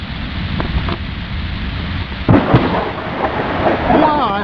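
Lightning strike during a thunderstorm, under a quarter mile away, with rain falling: a steady rain hiss, then a sudden loud crack and rumbling thunder close by, fading into rain.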